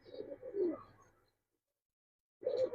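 Coloured pigeons coo in low, throaty bursts close by, with a gap of silence before another round of cooing.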